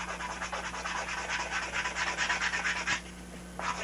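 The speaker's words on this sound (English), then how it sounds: "I'll just dress these off with a sanding block." Sanding block rubbed over rough spots on a workpiece, a faint, steady back-and-forth scratching with a brief pause near the end.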